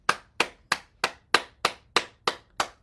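Nine sharp, evenly spaced hand claps ring out one after another in a steady rhythm during a group exercise session, each clap crisp and close with near silence between them.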